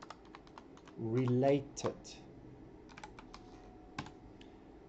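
Someone types on a computer keyboard nearby, with quiet scattered clicks and short bursts of keystrokes around a brief spoken word.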